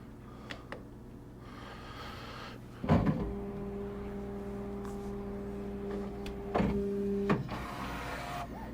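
A Bambu Lab P1S 3D printer runs its self-test: two strong mechanical bursts at about three and six and a half seconds, each carrying a steady motor hum, over a quieter whirring background with small clicks.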